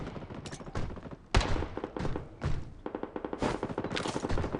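Gunfire in the mobile shooter game Blood Strike crackles in rapid bursts and single sharp shots, some loud and close, others quicker rattling volleys, across the whole stretch.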